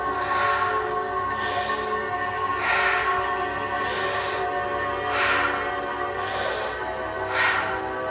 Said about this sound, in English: breathing in through the mouth